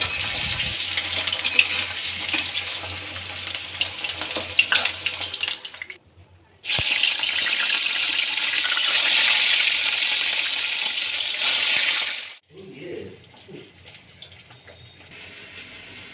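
Catla fish being rinsed under a running tap, with a steady close gush of water that stops briefly, resumes strongly and then cuts off into quieter handling sounds.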